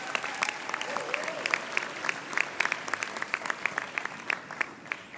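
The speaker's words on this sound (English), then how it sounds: "I think they deserve one more round of applause" An audience at a University of the Free State graduation ceremony gives a round of applause, steady dense clapping with sharper individual claps standing out across the few seconds.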